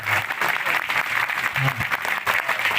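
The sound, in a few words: audience clapping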